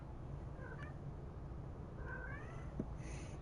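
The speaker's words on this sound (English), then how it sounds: "Have you guys hear my cat?" A cat meows softly a few times in a quiet room, short rising calls spaced apart against a low background hum.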